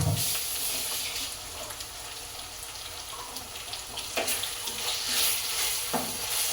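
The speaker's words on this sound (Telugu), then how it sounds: "చక్కగా కలుపుకుంటూ దీన్ని 2 ఫ్రై అయ్యే విధంగా మనం ఫ్రై చేసుకోవాలి" Onion and ginger paste sizzles and fries steadily in a hot pan while being stirred, a continuous close hiss with occasional scraping, no talking.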